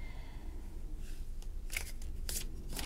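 Tarot cards being shuffled by hand in a quiet room, soft crisp riffling bursts rising briefly over a faint steady background hiss.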